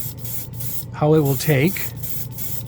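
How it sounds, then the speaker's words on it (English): An aerosol can sprays Tamiya clear red paint over silver and gunmetal finishes. The close, steady hiss comes in bursts with short pauses, and a voice briefly talks over it. "We're going to spray it over these, the silver and the gunmetal."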